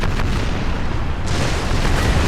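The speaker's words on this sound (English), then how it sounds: "Immense firing going on now." Naval cannon fire in a Napoleon: Total War multiplayer sea battle: loud, continuous booming broadsides and artillery rumble roll without pause, densely overlapping throughout.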